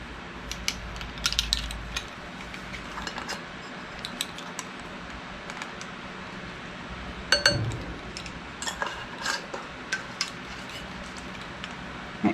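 Light clinks and scrapes of a utensil stirring a dry keto flour blend with nutmeg in a bowl, irregular soft taps and rattles scattered throughout, fairly close and quiet.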